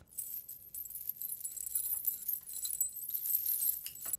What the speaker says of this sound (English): This is like a chain, rattlesnake chain effect.